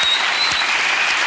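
Studio audience on a television talk show applauding a departing guest named Vince; dense, steady clapping fills the moment from start to finish at close range.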